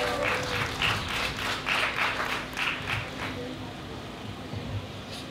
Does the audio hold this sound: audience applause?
yes